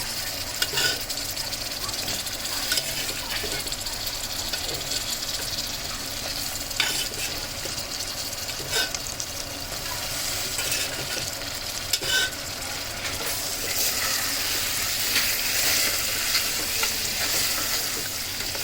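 Goat trotters stirred and fried in oil for a goat head curry give a steady, dense sizzle with scraping stirring strokes throughout, fairly close and unbroken, no voices.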